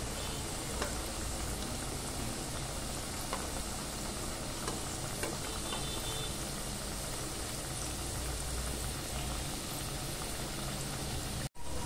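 Kothimbir vadi, coriander fritters, shallow-fry in oil with a dense, even sizzle that holds steady and close throughout, then cuts off abruptly at the very end.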